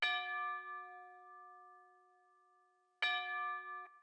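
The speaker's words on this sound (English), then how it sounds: "We just got the tubular bells playing" Two synthesized tubular bell strikes in a beat, the first at the start ringing out and decaying slowly, the second about three seconds later, each a clear, loud metallic chime with sustained tones.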